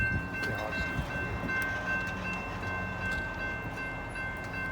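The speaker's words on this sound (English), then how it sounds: "got a southbound train coming through" A CSX local freight train rolls past with a steady rumble of rail cars and a sustained horn tone throughout, continuous and fairly close.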